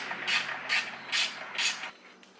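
A ratchet wrench working a header bolt loose on a 5.3 LS engine, heard as four evenly spaced bursts of close, crisp clicking before it stops.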